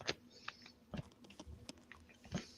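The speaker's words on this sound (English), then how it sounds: "That's the crunchiest raisins I've ever heard." Crunchy Sun-Maid raisins being chewed up close, with several distinct crisp bites and crunches spread across a short, quiet stretch with no talking.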